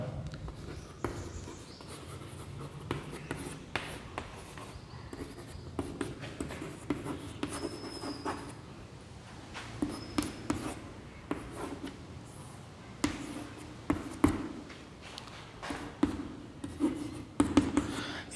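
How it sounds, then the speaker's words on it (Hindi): Chalk or marker writing an equation on a board, with irregular scratchy strokes and taps coming in bursts, fairly close and with no talking. "जैसे फॉर एग्जांपल मैं आपको लिखता हूं यहां पर"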